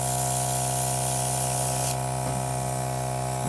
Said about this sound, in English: I'm going to use my airbrush.